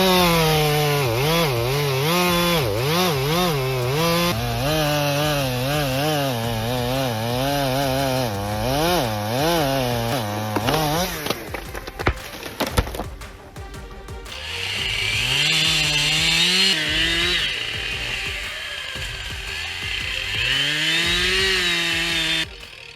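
A chainsaw cuts into a cedar tree during logging, loud and close, its engine revving up and down through steady cutting, then dropping briefly before roaring back at full throttle.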